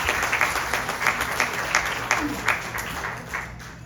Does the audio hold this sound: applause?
yes